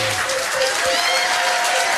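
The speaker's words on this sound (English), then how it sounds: "give them a round of applause" A pub trivia quiz crowd applauds the winning team, steady clapping that fills the room while a few voices and tonal sounds ring over it.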